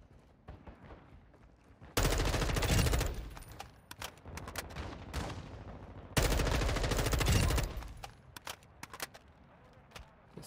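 In the video game Warzone 2 DMZ, gunfire from a rooftop rattles out in two loud sustained automatic bursts, with scattered quieter shots and ambient noise around them.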